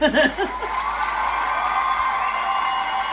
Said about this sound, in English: I'm gonna give me a fucking cheer for that because that was fucking great.